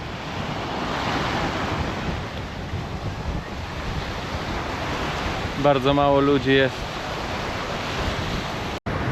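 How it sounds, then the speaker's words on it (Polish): Strong wind roars steadily across the microphone with surf rushing beneath it, and a voice speaks briefly partway through. "jest bardzo mocny wiatr"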